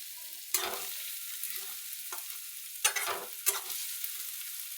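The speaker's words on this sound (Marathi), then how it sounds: "बघू शकता तुम्ही कांदा पण कसं भाजायचा, कसं टमाटा पण शिजू द्यायचा." Onion and tomato frying in a pan, a quiet sizzle broken by a few sharp scraping stirs of a utensil against the pan, spaced irregularly, with no talking.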